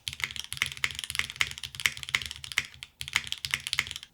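Typing on a Soul 65 gasket-mounted 65% mechanical keyboard, rapid clacky keystrokes in bursts with a brief pause near the three-second mark, close and crisp, with no talking.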